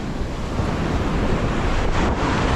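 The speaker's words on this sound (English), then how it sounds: "Waves are just brutal today." Rough, heavy ocean surf at Miami Beach, a loud continuous roar of breaking waves mixed with wind buffeting the microphone, no voices.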